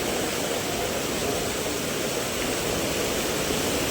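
Muddy river water rushing with strong force at night in the Konkan: a dense, continuous roar of broadband noise, loud and unbroken.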